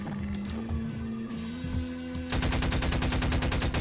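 Turret gunfire in Garry's Mod built with Wiremod: after a steady low electronic hum with scattered clicks, a rapid, loud, evenly spaced burst of automatic shots takes over and continues to the end.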